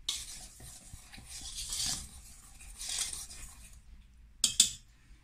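Flour, sugar and yeast being stirred together in a bowl for brioche dough, a soft scraping and swishing close by with light utensil clinks near the end, no talking.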